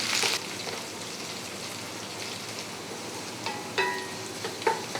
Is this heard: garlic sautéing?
yes